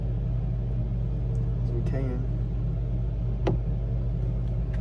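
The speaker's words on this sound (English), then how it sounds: "Sorry about the noise, we gotta get the fan on so we can get these fumes out of here." A ventilation fan runs steadily to clear fumes while old plastic is burned for colored fire. It makes a constant low rumbling hum throughout, under brief speech.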